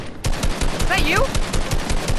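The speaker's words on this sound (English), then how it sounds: "I'm shooting at you, am I?" Rapid automatic gunfire in the Fortnite video game, a steady run of quick shots lasting the whole clip with a voice briefly audible underneath.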